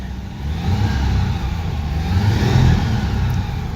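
A car engine revs steadily and loudly for several seconds, rising slightly before easing off, with no talking over it.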